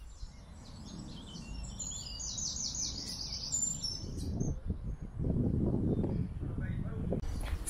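Birds chirp and sing in rapid bright phrases during a spring walk outdoors, clear near the start and then partly covered by wind rumble and a voice talking.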